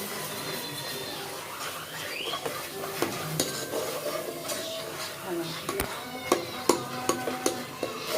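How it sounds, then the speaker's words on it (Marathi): Malvani masala paste of coriander, mint, tomato and onion sautéed in oil for a mutton curry, with steady sizzling, repeated scraping stir strokes and sharp clinks of a utensil against the pan, under a faint murmur of background voices. "हा थोडासा आपल्याला तेलामध्ये छान असा परतून घ्यायचा आहे"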